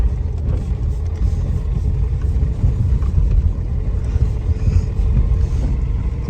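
A car drives on a wintry road toward a parcel depot, its engine and tire rumble a steady, loud, continuous low drone throughout with no talking.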